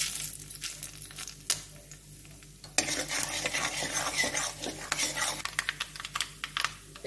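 Mustard seeds and dry red chillies tempering in hot oil left from frying small mourola fish, a quiet hum that bursts into loud crackling sizzle with sharp pops and utensil clinks, close up, no speech.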